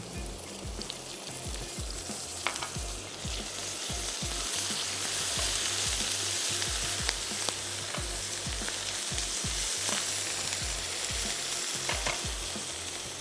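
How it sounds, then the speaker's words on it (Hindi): Onion frying in a pan with ginger-garlic paste added, stirred steadily with a spoon: a loud, continuous close-up sizzle with frequent scraping taps of the spoon throughout. "थोड़ा सा प्याज को भी चम्मच चलाते जाएंगे और अब मैं इसमें ऐड करने जा रही हूँ लहसुन और अदरक का पेस्ट"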